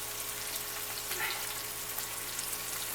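Chicken sautéing in a pan with a honey and stone-ground mustard sauce, giving a steady, close broadband sizzle that holds for three seconds without talk.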